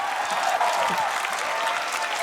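Studio audience applause on a Taiwanese band competition TV show, a dense, steady wall of clapping from a large crowd, loud and continuous throughout.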